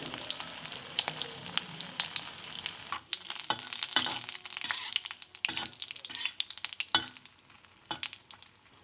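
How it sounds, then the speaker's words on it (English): Washed dry fish stir-fried in a pan over a medium flame, a steady sizzle broken by repeated scraping and clattering stirs, close and moderately loud with no talking. "Then add your washed dry fish. Stir fry it for a couple of minutes on a medium flame."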